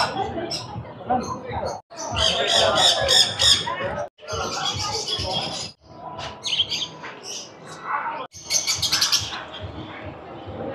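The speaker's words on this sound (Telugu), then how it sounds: "పక్షులు ఒక్కొక్కటి ఒక్కొక్క సౌండ్ సౌండ్ చేస్తున్నాయి" Many birds chirp and call at a Marienpark exhibition in Vizag, a dense, busy chorus of tweets and squawks in short bursts, mixed with crowd voices close by.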